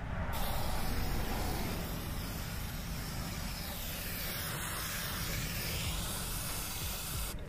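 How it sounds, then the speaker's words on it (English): A spray paint can hisses in one steady, continuous stream for several seconds, close by, with no talking, while painting a rust repair on a Ford F-150 door. "Your shop teacher ever tell you it's not okay to spray paint like that?"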